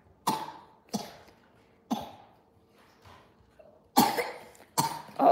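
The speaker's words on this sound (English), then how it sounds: "Oh, you okay? You're coughing." A child coughing in a quiet room, about six separate sharp coughs spaced irregularly, close and fairly loud, with silence in between.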